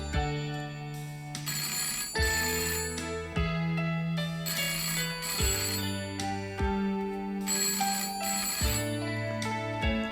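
A telephone rings in repeated electronic trills, each burst followed by a short gap, steady and fairly quiet with no voices over it.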